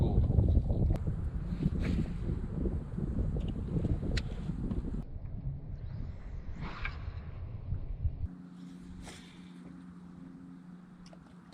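Wind blows across a lake around a small drifting fishing boat, a steady rushing and buffeting against the microphone with faint water and hull sounds, gradually easing.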